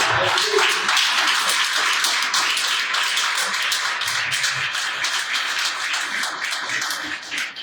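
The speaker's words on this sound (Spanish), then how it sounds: "Denle un aplauso al Señor." A congregation at a church service claps for the Lord in sustained, dense applause that stays loud and steady for several seconds, fading slightly at the end, with no speech over it.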